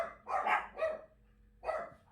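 Dogs bark in a quick burst of two close, fairly loud barks, then a short pause and one more bark, with no talk.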